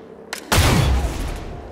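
A sharp burst of rapid gunfire at close range hits a turret in the video game XCOM: Chimera Squad, following a brief click, then rumbles off into a fading boom.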